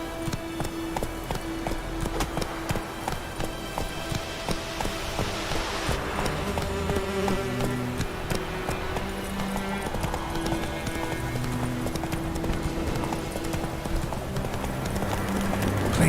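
Horse hooves clip-clopping steadily in The Witcher 3, a close, rhythmic trot that runs throughout beneath game music, with a brief voice now and then.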